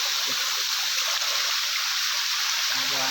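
Water runs through a tunnel in Trece Cavite, a steady broadband rush like a stream heard close, with voices talking over it and a brief low hum near the end.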